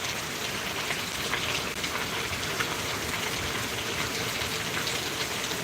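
Heavy monsoon rain pours in Mumbai, a dense, constant hiss of drops hitting surfaces, loud and unbroken with no voices.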